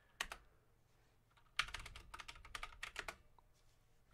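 Typing a Metasploit command on a computer keyboard: a couple of isolated keystrokes, then a quick, rapid run of close, crisp clicks in a quiet room.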